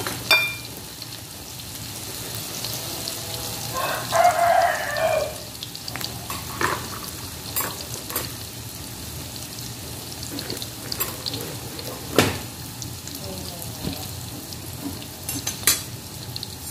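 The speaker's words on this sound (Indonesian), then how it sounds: "Sekarang minyaknya udah panas ya sahabat-sahabat. Aku taruh tempenya" Tempeh slices hit hot oil in a home kitchen pan, bursting into a short loud sizzle that settles into a steady, quieter frying crackle with occasional utensil clinks.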